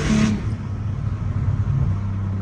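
A Cadillac ATS-V twin-turbo V6 pulls hard in second gear, with a brief high burst at the start settling into a steady, moderately loud low engine drone heard alone.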